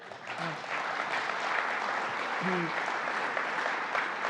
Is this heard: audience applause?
yes